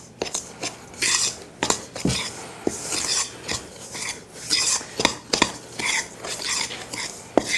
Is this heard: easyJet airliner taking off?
no